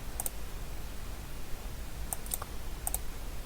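Short bursts of keystrokes on a computer keyboard as a terminal command is entered, a few quick light clicks in small clusters over a quiet room hiss.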